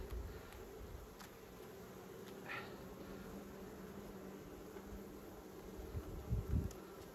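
A swarm of bees buzzes around a beehive, a faint, steady drone with occasional closer passes and soft handling noises.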